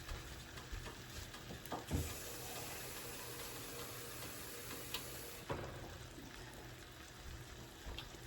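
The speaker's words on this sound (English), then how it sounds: "we're going to add some water to our can." Tap water runs steadily into an empty can while pork chops in onion gravy are being made, a continuous close splashing hiss with a couple of small knocks.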